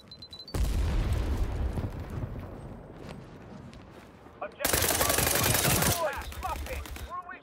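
Gunshots in a shooter video game, dense bursts of firing near and loud, with a second heavy blast of fire later and a player talking over the action.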